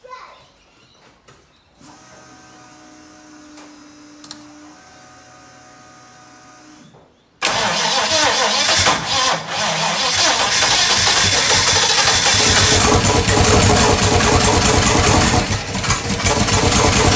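A Holden 253/308 V8 fitted with Holley Sniper EFI and Holley HyperSpark cranks after a quiet stretch, then catches at about seven seconds and settles into a loud, steady, close-up idle that runs to the end.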